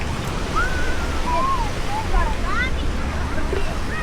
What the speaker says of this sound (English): So this is like the beach here.